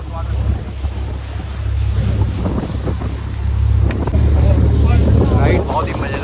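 A small open boat cruises across Tehri Lake, its motor droning low and steady under rushing wind and splashing water, the hull slapping through the surface in a continuous loud wash with faint voices in the background.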